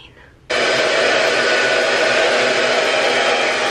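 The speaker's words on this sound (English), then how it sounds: "I am done blow drying my hair" A handheld hair dryer blowing on hair switches on abruptly and runs as a loud, steady, close whooshing roar with no pauses until the end.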